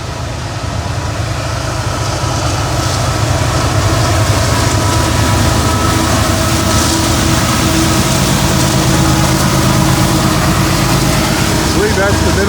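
A northbound freight train rolls past close by in a continuous loud rumble and rattle of wheels and cars, with someone talking over it.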